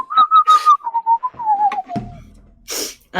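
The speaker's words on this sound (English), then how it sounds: "Somebody's whistling." A person whistles a slow, wavering tune close by, the notes gliding downward, followed by a brief bump and a short breathy rustle.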